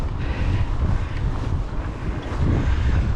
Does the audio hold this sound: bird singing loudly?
no